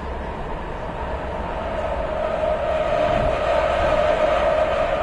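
A train ride in a PS4 video game gives a continuous rolling rumble with a steady mid-pitched hum that swells gradually louder, with no talking over it.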